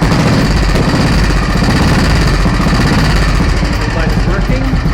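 A Royal Enfield Bullet motorcycle engine starts and settles into a loud, close, steady thumping idle with a fast rhythmic knock that fills the whole stretch, with a voice briefly heard over it.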